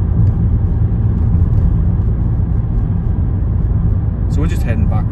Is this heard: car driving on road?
yes